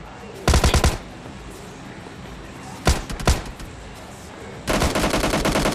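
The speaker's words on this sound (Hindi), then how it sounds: "मैं नीचे आता हूँ, एक दो शॉट मारता हूँ उसको गोली" Gunfire in the mobile battle royale game PUBG Lite: three loud bursts of rapid shots, a short volley near the start, a couple of sharp cracks mid-way and a sustained string at the end.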